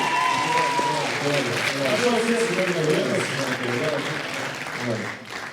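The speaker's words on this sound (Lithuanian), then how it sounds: "neblogai plojimai" An audience at a live comedy talk show applauds in a steady wash of clapping that fades slightly at the end, with voices talking over it.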